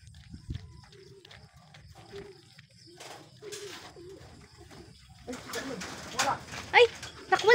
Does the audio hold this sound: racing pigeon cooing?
yes